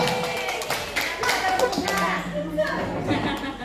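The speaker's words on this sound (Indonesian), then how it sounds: "Tepuk tangan dulu untuk dia." Students at a school positive-culture event at a junior high in Sangatta Utara break into scattered clapping, irregular and mid-distance, with children's chatter and speech running underneath.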